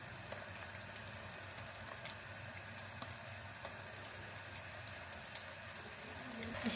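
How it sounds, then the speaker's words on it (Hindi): Egg-dipped potato gola kebabs frying in oil, a steady soft sizzle with light crackles throughout, fairly quiet and close, no voices. "इसको हम अंडे में डिप करेंगे। इसको हम फ्राई कर लेंगे।"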